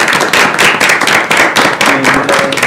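Applause at a board of directors meeting in a small room, a modest group clapping close and loud in uneven bursts, with a brief tonal sound entering near the end.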